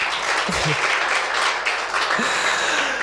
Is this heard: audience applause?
yes